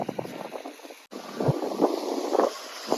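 Gusty wind at a hilltop viewpoint in rain roars and buffets the microphone, rising and falling in uneven blasts with a brief dropout partway through.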